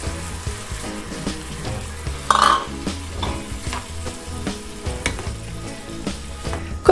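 Apple pieces cook in a pan with honey, lemon and orange juice and cinnamon, bubbling and sizzling close by, with repeated scraping and clatter from stirring and one louder knock near the end.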